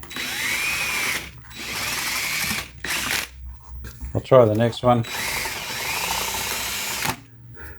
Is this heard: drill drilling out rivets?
yes